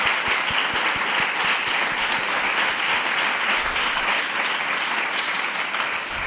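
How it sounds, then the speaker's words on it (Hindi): Applause from a gathering after a Vedic recitation, a steady wash of many hands clapping at moderate volume with a few sharper nearby claps in the first couple of seconds. "मैं भी ताली कर।"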